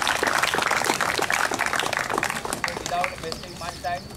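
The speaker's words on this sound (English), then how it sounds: "big clap to sir also" Audience clapping at a prize ceremony after an under-14 school football match between Loyola and Britto: a dense round of handclaps fills the first half, then thins out as talking takes over.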